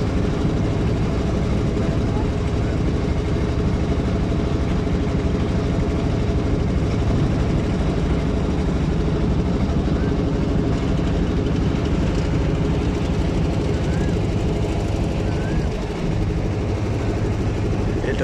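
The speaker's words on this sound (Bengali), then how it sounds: "দেখতে পাচ্ছি আর একটি ট্রলার চলে এসেছে সেই দিয়াবাড়ি বটতলা ঘাট থেকে" A trawler boat's engine drones steadily as it pulls in at a river ghat near Birulia, Savar. The low rumble stays loud and close, with no pause throughout.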